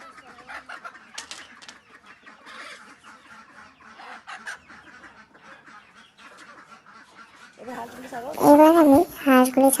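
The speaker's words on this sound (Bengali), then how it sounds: "এই খুশিতে আমি মুরগিগুলো এখন ছাড়তে যাবো।" Chickens on a farm cluck and squawk as they are let out, the calls loudest and busiest near the end after a stretch of fainter bird sounds and background voices.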